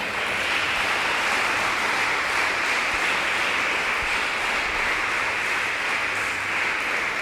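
Congregation applauding during an evangelical church service, a dense, steady wash of clapping that continues evenly and loudly for the whole stretch with no voices standing out.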